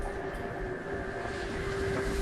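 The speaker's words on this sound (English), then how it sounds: "The train shuddered, lightly this time, barely noticeable." A train rumbles steadily on its rails in an audio drama, a continuous low roar with a faint tonal hum and no distinct clatter.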